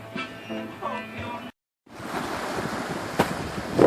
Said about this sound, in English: we got a little breeze going on out here